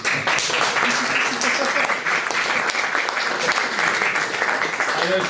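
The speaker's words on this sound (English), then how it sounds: "I want to hear a round of applause for the Guardian for doing" Sustained, dense applause from a conference audience in Copenhagen fills the hall at an even, loud level throughout, with a brief spoken word surfacing amid the clapping.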